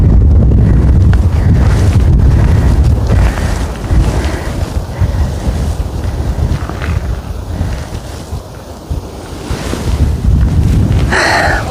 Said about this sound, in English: It's a bit too windy to talk.